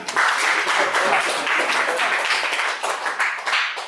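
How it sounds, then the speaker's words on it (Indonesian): A group claps together in a classroom, a dense burst of applause that carries on steadily throughout. "Ya, tepuk tangan."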